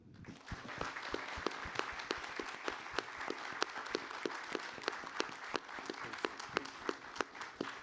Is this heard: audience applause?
yes